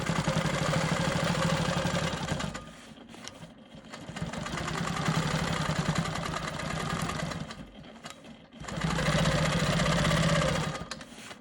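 A home sewing machine stitches in the ditch on an Ohio Star quilt block, whirring in steady bursts that pause briefly twice, close and alone with no talking.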